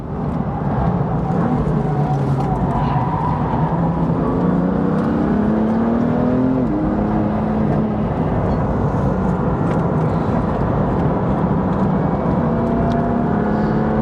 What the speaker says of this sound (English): Touring car brakes are noisy as well.